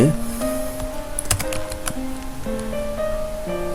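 Keys tapped on a computer keyboard while filling in a business name during Gmail account setup, a steady run of light clicks with faint tonal background music underneath.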